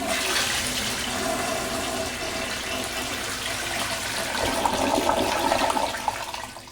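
A toilet flushes in a small home bathroom, a loud close rush of water that holds steady for several seconds, then swells and gurgles before tapering off as the tank refills.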